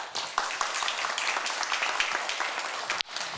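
Audience clapping at a panel discussion forum, a dense, steady burst of applause from a crowd in a hall, lasting a few seconds before cutting off.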